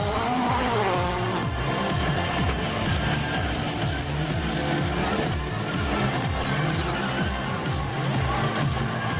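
A WRC rally car in a stage event at Rally Italy 2012, its engine revving hard and continuously with rapid rising and falling pitch sweeps, loud and close throughout.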